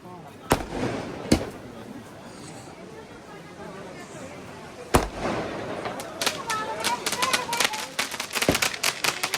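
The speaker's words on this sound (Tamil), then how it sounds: "தீபாவளி பட்டாசு வெடிக்கிறாங்க பாருங்க." Diwali firecrackers burst at night near a temple market in Badrinath, sharp scattered bangs at first and then a faster crackling string of pops, heard amid crowd chatter and talking voices.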